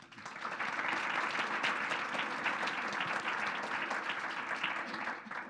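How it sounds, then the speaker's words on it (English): An audience at a community conversation on transportation gives a final round of applause for the speakers, steady dense clapping that holds evenly for several seconds without talk. "one last round of applause for our speakers"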